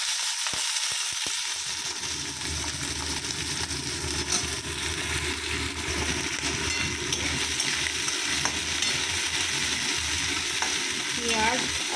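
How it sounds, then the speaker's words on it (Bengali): Greens frying in a pan give a continuous loud, close sizzle over twelve seconds, with occasional stirring scrapes and crackles and no voices. "এখানে শাক ভাজা, এই বড়মা শাক ভাজা হবে"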